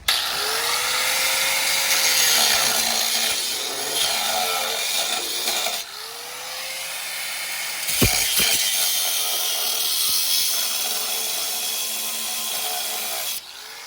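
A power tool grinds and cuts steadily through the steel frame of a 1964 Ford F600 truck, with a loud, continuous rasping whine that briefly dips and then resumes.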